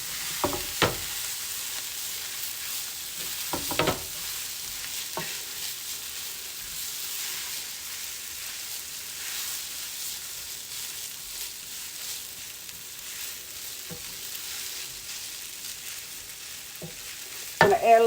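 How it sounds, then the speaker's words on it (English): Fried rice tossed and stirred in a hot pan, a low steady sizzle with a few scattered scraping knocks and a sharper clatter at the very end. "I'm going to toss my rice around."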